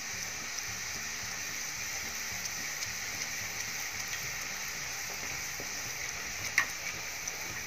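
Puris frying in a pan of hot oil, a steady, moderate bubbling sizzle that holds evenly throughout, with one faint click near the end and no talking.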